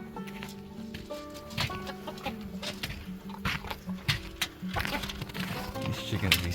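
Chickens on a snowy off-grid homestead cluck and squawk in short, irregular bursts close by, with some animal noise and faint background sound mixed in.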